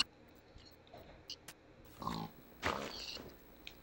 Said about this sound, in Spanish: Mira que hay muchos puercos.